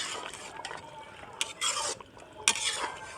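Mutton cooking in ghee in a karahi, stirred with a ladle that scrapes and clatters against the metal, wet sizzling bursts between strokes, close and moderately loud, no talking.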